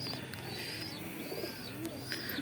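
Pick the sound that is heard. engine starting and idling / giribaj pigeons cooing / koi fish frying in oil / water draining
giribaj pigeons cooing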